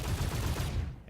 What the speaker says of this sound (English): we will test fire the weapon, and it definitely got faster